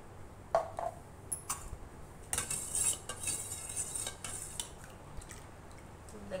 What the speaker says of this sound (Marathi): आता हा दूध मी याच्यात मिक्स करते चिकामध्ये